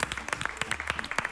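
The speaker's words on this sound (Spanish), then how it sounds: "Te despedimos con un fuerte aplauso." Studio audience applause on a Spanish-language television show, a brief burst of dense, even clapping heard up close and fairly quiet.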